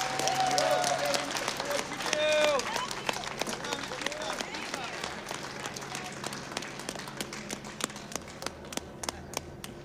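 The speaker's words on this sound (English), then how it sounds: "Let's give these guys a big round of applause." Crowd applause and scattered claps at a political rally honoring veterans and first responders, with a voice talking over the start before the clapping continues as steady, sharp hand claps.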